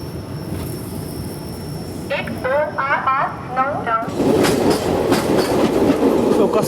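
Rajya Rani Express rolling out after leaving Kasara, a steady rumble and clatter of coaches on the rails, a train horn sounding in the middle, with the rumble growing louder and rougher toward the end.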